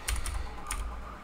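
Quick keystrokes on a computer keyboard, a few light clicks in two short clusters, close and clear over a faint steady background.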